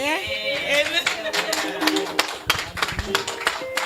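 Members of a Sunday church service congregation stand and clap for the men, producing sharp, irregular hand claps close by, mixed with singing or sustained voices and chatter throughout.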